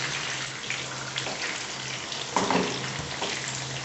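Small cut chicken pieces for garlic chicken fry in a pan with a steady, crackling sizzle, with a few louder scrapes or turns partway through; no one speaks.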